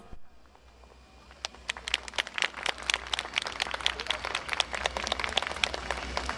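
A crowd at a yosakoi dance performance claps, starting faint and swelling into steady, dense applause with scattered sharp individual claps, heard alone without talk.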